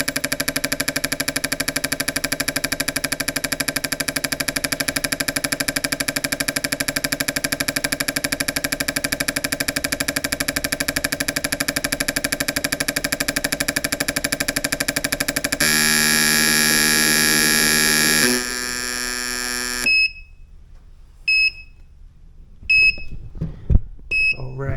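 Fuel injector flow test bench running a variable speed test on a budget injector, a loud steady mechanical drone with strong tonal harmonics that swells into a harsher burst before cutting off, followed by faint intermittent beeps.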